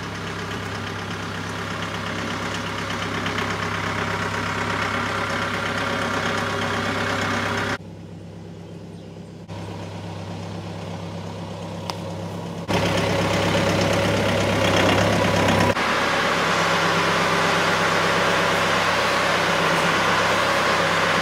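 A tractor pushes a truck out of a mud puddle, its engine a steady, loud idling drone with a low rumble throughout, briefly dropping quieter midway before swelling back up.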